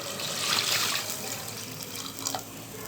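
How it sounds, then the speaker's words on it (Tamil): Water being poured into a pot of masala while cooking mini mutton biryani in a home kitchen, a short, soft splashing trickle that swells and then fades. "அந்த தண்ணியை நான் இதோட சேர்த்துக்கிறேன்"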